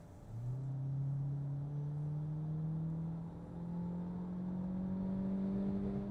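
A Peugeot 3008 plug-in hybrid 1.6 turbo with a seven-speed eDCS7 gearbox accelerates from 80 to 120 km/h, its engine note rising steadily in pitch, with a brief dip at a gear change, heard faintly from inside the cabin.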